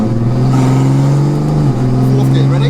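A 1400bhp BMW fitted with its road exhaust revs hard under full throttle, a loud, steady engine drone with a brief dip around a gear change before climbing again, continuing unbroken from start to finish.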